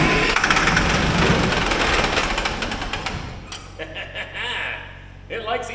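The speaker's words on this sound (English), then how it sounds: "I guess now we know the engine will run" An old Allis-Chalmers military diesel generator engine starts on ether, roaring loudly and close for about three seconds before fading into a rough, faltering run, with a person talking over it.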